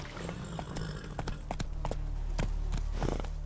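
Roach the horse gallops in The Witcher 3, hooves clip-clopping in a quick irregular rhythm of sharp thuds over a low steady ambient rumble, loud and close.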